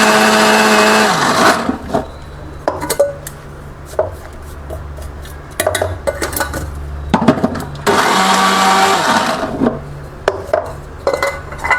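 A mixer grinder runs loud and steady as it grinds cashews and almonds, cutting out and restarting in pulses with clattering between runs.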